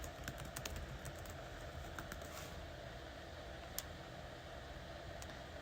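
A password being typed on a computer keyboard, with quiet, quick, irregular key clicks in short bursts over a soft background hiss.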